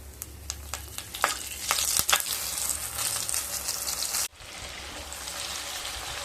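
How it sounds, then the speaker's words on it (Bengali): Nigella seeds, a dried chili and three green chilies hit hot oil for an Assam-style fish curry, crackling with sharp pops that build into a steady sizzle, then cut off abruptly and leave a quieter hiss. "এবার ওই তেলের মধ্যে হাফ চামচ কালো জিরে দিয়ে দেব, আর দিয়ে দেব একটা শুকনো লঙ্কা আর 3টা কাঁচা লঙ্কা"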